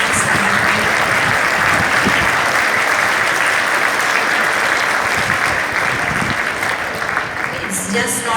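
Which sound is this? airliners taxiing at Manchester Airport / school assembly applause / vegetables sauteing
school assembly applause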